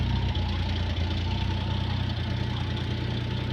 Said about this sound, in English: Good oil pressure, and truck runs pretty decent.